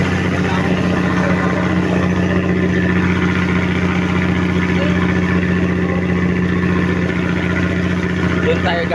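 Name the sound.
ferry boat engine running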